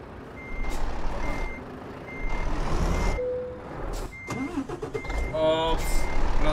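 Truck in Euro Truck Simulator 2 (Volvo FH Globetrotter XL 2020 with ProMods) reversing while parking, repeated steady reversing beeps over engine hum and air brake hiss, with a person talking over it.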